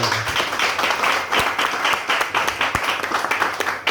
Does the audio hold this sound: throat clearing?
no